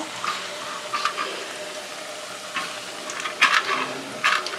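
Ribbon pakkoda dough fries in hot oil with a continuous bubbling sizzle, with occasional louder crackling bursts as pieces settle in the oil.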